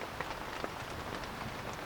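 Heavy night rain during a thunderstorm at a reed hut makes a faint, steady hiss with soft patter throughout. No thunder stands out.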